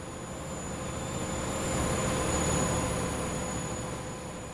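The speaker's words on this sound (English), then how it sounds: "this train's got the old Valenta sound pack from AP on this one from years ago" HST train in Train Simulator fitted with a Valenta engine sound pack, a steady broadband rumble with faint high whine that swells slightly midway, no voices.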